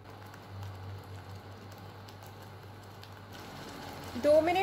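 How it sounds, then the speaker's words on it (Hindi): Mango puree with sugar cooks over medium heat, giving a soft, steady crackling patter close by, with a faint hum that drops away near the end and a brief louder rustle at the finish. "प्यूरे को चीनी के साथ 2 या 3 मिनट तक ही कुक करना है मीडियम हीट में"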